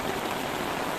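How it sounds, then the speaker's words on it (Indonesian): Steady rain falls in Penglipuran village, Bali, a soft, even hiss of drops with no voices, brief and constant throughout. "Cuma saat ini kebetulan lagi hujan, menyambut para wisatawan yang berkunjung ke tempat ini"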